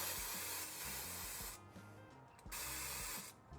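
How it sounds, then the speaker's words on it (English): AMACO Velvet spray glaze hissing from an aerosol can in two long bursts with a short pause between, close and steady, no voices. "Let's spray this one by half."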